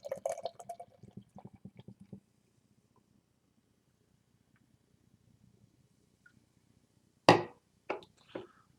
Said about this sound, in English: All right, let's give it a pour.